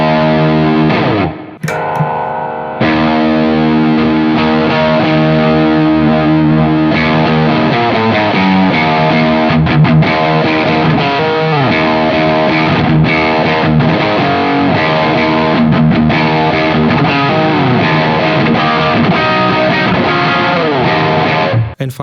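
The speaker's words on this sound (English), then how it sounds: "I will push all 3 in now," Heavily distorted electric guitar through three stacked overdrive pedals on a Line 6 POD Go plays thick, saturated chords and riffs, loud and sustained, with a gritty, compressed buzz throughout.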